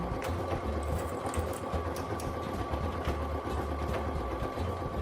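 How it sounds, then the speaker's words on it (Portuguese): A sewing machine that adjusts itself to the thickness of the fabric stitches a transparent organizer bag. It gives a continuous, close, even whirring run with no voices over it. "Essa máquina, ela tem um diferencial que é maravilhoso. Ela vai se adequando às alturas de costura."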